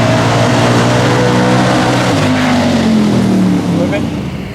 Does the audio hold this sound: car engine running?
yes